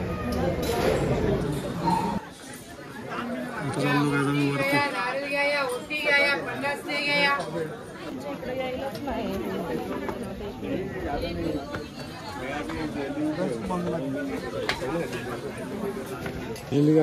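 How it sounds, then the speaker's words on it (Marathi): Dense crowd chatter in a packed Hindu temple queue during Navratri, a steady hubbub of many overlapping voices with a nearby person talking over it. "भन्नाट गर्दी आहे."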